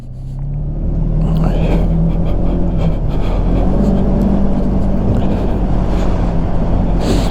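A 2021 Polaris Ranger 1000 UTV drives steadily, its engine a loud, continuous low rumble from the cab with a constant drone that holds without pauses.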